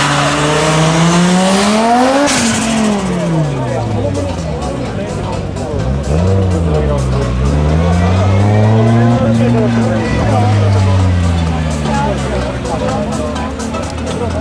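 Drag racing between an Audi 80 2.2 Turbo and a Honda Civic Turbo in the front-wheel-drive final at Sliven: loud turbocharged engines rev hard and climb through gears with rising and falling pitch, over a commentator's voice and crowd noise.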